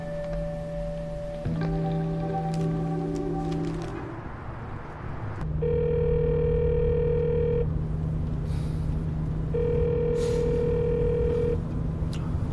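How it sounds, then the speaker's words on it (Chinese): A telephone rings out unanswered, its repeated electronic tones sounding in two long bursts separated by pauses, clear and fairly loud over a quiet room with no talking. "你干什么不接我电话啊？"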